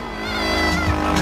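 A hill climb motorcycle engine runs hard at a motocross hill climb event, a loud rising rev that holds steady and close, with slight fluctuation as the rider searches for grip.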